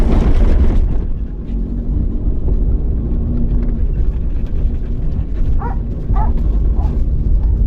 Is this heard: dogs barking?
yes